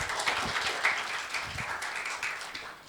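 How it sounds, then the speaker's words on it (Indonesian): Senior high school students at a school podcast session applaud together: a moderate, somewhat distant patter of many hands clapping for a few seconds, fairly uniform with no talk over it. "Tepuk tangan dulu dong."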